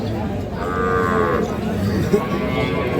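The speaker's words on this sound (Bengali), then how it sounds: "বকনা বাছুর বাছুরটা বকনা কদাত বর্ষ এটা জোয়ান নতুন" A young heifer calf gives one long, loud mooing call at a busy rural cattle market where dairy cows and calves are sold, close by over a steady crowd murmur.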